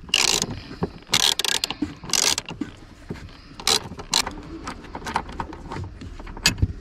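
Screws holding a BMW 1 Series F20 seat are undone with a ratcheting tool, giving short bursts of close, rapid clicking and metallic rattling, separated by quieter pauses and handling noise.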